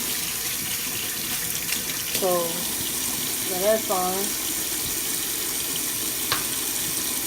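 Cool water runs from a kitchen tap in a steady hiss of flow while a person speaks briefly over it.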